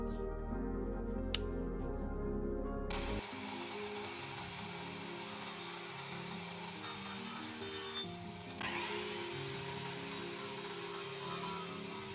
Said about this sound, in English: Here to use the drop saw to cut the planks.